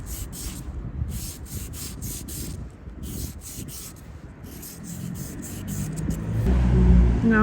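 A sponge file rubs back and forth over fingernails during a DIY manicure, a series of close, rhythmic scratchy strokes with short pauses between them, over low background rumble that swells toward the end.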